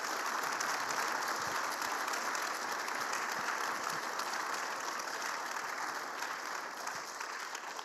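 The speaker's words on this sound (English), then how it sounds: "Why don't we give these guys a round of applause?" A room of listeners at a Fellowship of Christian Athletes quarterback panel gives sustained applause, with continuous, fairly loud clapping that stays even throughout.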